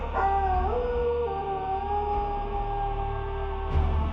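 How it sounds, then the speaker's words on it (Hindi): A dog howls outside in a horror audio drama, a long mournful wavering wail rising and sliding in pitch over a low rumbling background, with a brief bump near the end. "तभी बाहर से एक कुत्ते के रोने की बहुत गंदी आवाज सुनाई देती"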